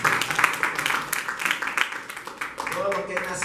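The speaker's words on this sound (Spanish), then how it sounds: "Denle un aplauso al Señor." A church congregation at Arca de la Salvación in Panama claps through a service, with rapid, uneven handclaps spread across the room under a speaking voice.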